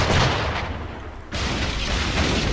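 Naval cannons fire during a sea battle in the video game Assassin's Creed 4 Black Flag, as a loud, dense barrage of booming shots that pauses briefly and then resumes without any speech.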